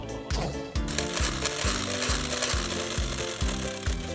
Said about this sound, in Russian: Внимание, работает робот.